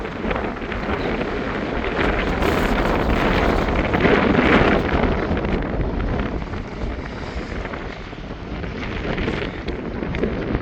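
Strong storm wind roars across the microphone over the continuous crash and wash of rough surf on the Jaffna coast, Sri Lanka, loud and unbroken throughout.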